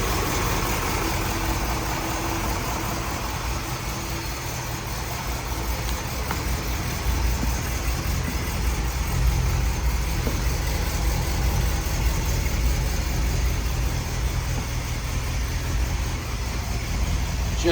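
A 1953 Buick Roadmaster with its 331 Nailhead V8 idling, a smooth, steady low rumble close by that holds even and unbroken throughout, with no talk over it.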